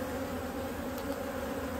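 Honeybees droning at an open hive during a winter check, a continuous close buzz hovering steadily throughout with no voices over it.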